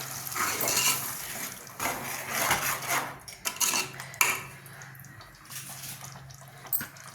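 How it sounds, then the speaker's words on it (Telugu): Fish pieces for Nellore fish curry go into a pot, with clattering pot and utensil knocks, wet splashy sounds and kitchen handling throughout, fairly close and with no talking. "ముక్కలు వేస్తున్నా చూడు."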